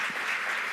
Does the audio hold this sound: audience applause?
yes